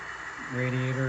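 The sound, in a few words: model locomotive sound of radiator dynamic brake fans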